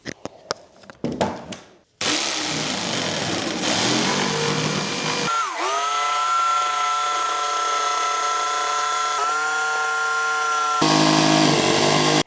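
A power saw revs up to a loud, steady whine and cuts through a wooden table top in a workshop, with harsh, buzzing noise that stays close and continuous.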